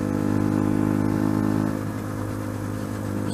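A motorcycle ridden on the Mayday Run, its steady mid-pitched engine drone holding loud and close throughout, easing slightly in level partway through with no talk over it.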